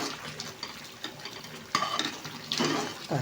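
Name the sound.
stirring foaming coconut burfi mixture in pan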